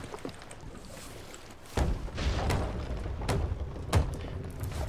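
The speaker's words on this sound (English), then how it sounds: "No, it was the sound of the ship sinking." Ship sinking after running aground in Sea of Thieves: a sudden deep thump sets off a heavy rumbling wash of water and creaking, with further dull booms and sloshing bursts, loud and close.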